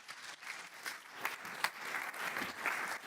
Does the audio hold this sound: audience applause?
yes